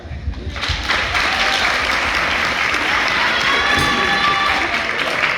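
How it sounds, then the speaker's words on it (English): A full banquet room claps for a long jump champion at a high school track and field awards banquet. The applause swells quickly after a quiet opening and holds loud and steady, with some cheering and whoops mixed in. "applause for that"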